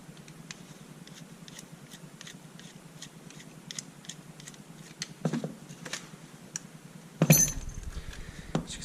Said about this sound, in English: Now it's time to disassemble it.